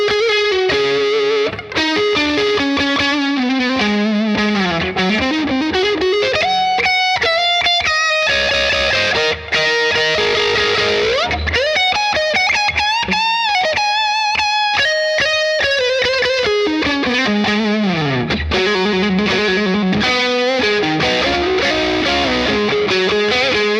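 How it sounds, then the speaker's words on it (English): Distorted electric guitar leads played on a Gibson SG through the neck humbucker into a Bad Cat Black Cat combo amp, sustained bending notes and fast runs, loud and continuous without talk. "Let's do some more like kind of leads and show you some tones with the neck pickup"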